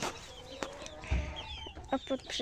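Araucana rumpless chickens cluck softly at close range, a few short clucks and faint calls over light background noise.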